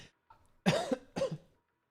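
A person coughs twice in quick succession, close and fairly loud, the two bursts separated by a short pause, with a faint breath just before.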